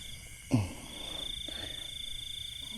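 A single frog croaks once near the water in the misty pre-dawn, a short low call standing out over a steady high insect whine and quiet night background.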